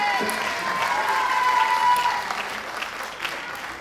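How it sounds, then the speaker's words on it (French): A theatre audience applauds at a Restos du Coeur 2014 charity show, a dense, steady wash of many hands clapping close and loud for nearly four seconds, with faint voices under it. "Voilà, on l'applaudit."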